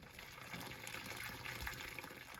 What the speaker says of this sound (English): I'm just going to go ahead and turn that valve to drain the tank.